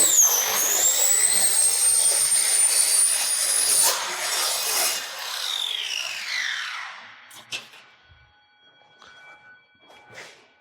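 A timber cross-cut saw slices through a rafter at a 10-degree angle for a valley roof, a loud rising whine with a sweeping pitch that runs several seconds, then winds down into quieter clunks and short knocks of machinery.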